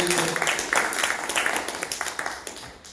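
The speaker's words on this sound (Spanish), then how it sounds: "¿Le puede dar una ofrenda de palmas," A congregation claps together during a Spanish-language church service, a steady patter of many hands that carries on for about three seconds, moderately loud and slowly tapering at the end.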